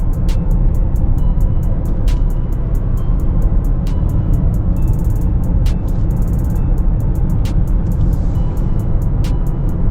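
A BMW 750Li Twin Turbo drives along, a steady loud road and engine drone heard from inside the cabin, with regular faint ticking clicks over the constant rumble.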